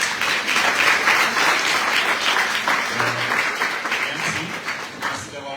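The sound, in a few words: audience applause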